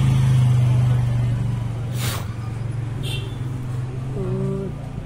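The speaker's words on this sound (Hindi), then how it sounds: "अपनी गाड़ी चल पड़ी है गाइस।" A Mahindra Thar in the video game Indian Bike Driving 3D drives along with a loud, steady low engine drone, briefly interrupted by a burst of broadband noise.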